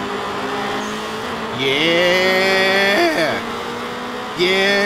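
A car revs and accelerates in a street-racing video game, its engine tone climbing through gear shifts with a brief drop around three seconds, loud and close with no talk over it.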